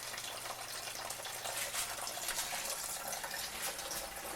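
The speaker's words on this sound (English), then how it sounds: "But you can hear it siphoning." Hard iced tea siphons from a bottle into a bucket, a soft continuous trickle and gurgle of flowing liquid, close and quiet.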